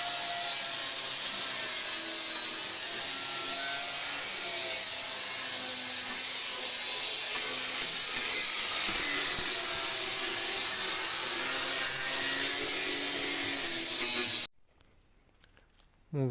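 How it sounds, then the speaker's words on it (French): Continuous high, harsh whine of an angle grinder sanding rust inside a Peugeot 205, steady and loud for most of the stretch before cutting off abruptly near the end. "Et pour la rouille, je vais la poncer et tout à la meuleuse pour faire en sorte qu'il n'y en ait plus."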